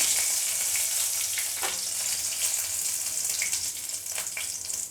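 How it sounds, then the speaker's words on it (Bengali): Bay leaf and dried chilli, each broken in two, hit hot oil for tempering a village-style jackfruit curry, giving a close, continuous crackling sizzle that holds steady throughout, with no voices. "এখন আমি ফোড়নে দেব।"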